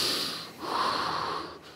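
Heavy, strained breathing from a person stepping into waist-deep glacier ice water at an ice palace, a couple of loud, close, breathy inhales and exhales, heard alone.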